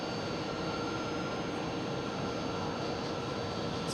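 An airliner taking off at Amsterdam Schiphol, rotating late on a shortened runway, makes a steady, unbroken broadband jet roar that holds an even level throughout.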